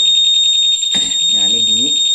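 A Honda PCX 160 keyless alarm module, bumped on purpose, blares a loud steady high electronic tone. A brief knock comes partway through, and someone speaks over the continuing alarm.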